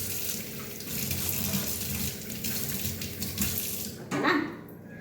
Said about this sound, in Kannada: ಇದನ್ನು ನೀಟಾಗಿ ನೀರು ಹಾಕಿ ನೀರಲ್ಲಿ ವಾಶ್ ಮಾಡ್ಕೋಬೇಕು